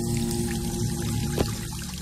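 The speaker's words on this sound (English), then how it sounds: "Yeah, leave the water on." A sink tap left running in a bathroom in the video game Bioshock Infinite: a steady, loud stream of water pouring without a break over two seconds, with a faint clink partway through and nobody speaking.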